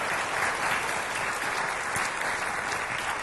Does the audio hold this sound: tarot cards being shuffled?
no